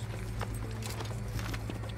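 Horse hooves clip-clop steadily in Assassin's Creed, a quick, even trot that runs through the whole stretch over a low game hum.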